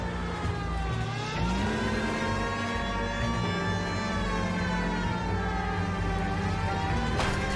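A police car siren wails steadily in a video game, rising and sweeping in pitch over a constant engine drone, loud and continuous throughout with no talk.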